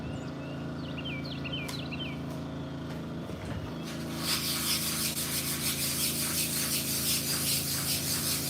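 A wooden market-booth sign is sanded outdoors, starting as a quieter rub under birdsong and then turning into steady, louder rhythmic scratchy strokes for the second half.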